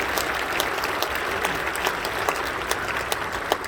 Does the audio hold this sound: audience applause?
yes